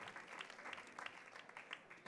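A church congregation claps for the Lord during a service, a faint, steady patter of applause heard from a distance without a break.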